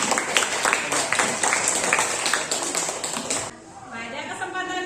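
Classroom applause for a student group: a dense patter of many hands clapping for about three and a half seconds, then stopping abruptly as a voice begins speaking.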